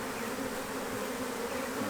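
A bee buzzes steadily and close throughout while being rescued from inside a telecom box, a continuous insect drone with no talk over it.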